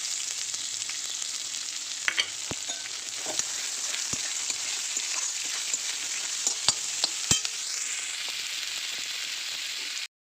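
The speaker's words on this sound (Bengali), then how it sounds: "তারপরে দিয়ে দেবো পেঁয়াজ কুচিগুলো।" Chopped onions sizzle steadily in hot oil with whole bay leaves and garam masala, a dense continuous frying hiss with occasional pops and stirring clicks, close and fairly loud throughout.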